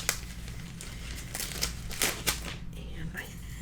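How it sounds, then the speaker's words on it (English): Tape being pulled and pressed onto a scrapbook album page, giving soft crinkling and rustling with a few sharper peeling snaps, steady and close. "put tape on that"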